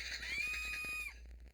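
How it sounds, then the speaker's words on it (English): A muffled scream sound effect in an audio drama, set further down a hallway: a single sustained high cry lasting about a second, then cutting off abruptly. "the sound of a muffled scream and shattering glass emitting from further down the hallway"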